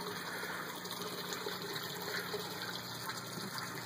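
Water draining back through a 150-gallon backyard aquaponics system, a steady close rushing and gushing flow that continues unbroken without any voices.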